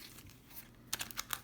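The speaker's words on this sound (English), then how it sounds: "A nice little shuffle here." A deck of Magic: The Gathering cards is shuffled, a quiet soft rustle followed by a quick burst of crisp riffling flutters, close and brief, with no talking.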